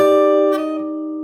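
A short phrase from a pop song played slowly on fingerstyle guitar, with a single sustained chord ringing out and fading gently with no talking.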